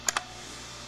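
Two quick, crisp key taps on a Compaq Deskpro EN computer keyboard while entering a terminal command, close and clear in a quiet room.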